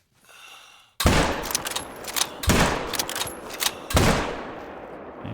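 Three loud rifle shots ring out in the hunting video game theHunter: Call of the Wild, spaced over about three seconds, each with a long rolling echo that fades into the open landscape.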